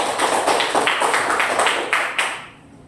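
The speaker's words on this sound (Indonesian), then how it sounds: "Ya, bagus, tepuk tangan." Classmates applaud after a student answers in a school lesson, a group clapping in quick rhythmic bursts, fairly loud and close, ending abruptly into quiet.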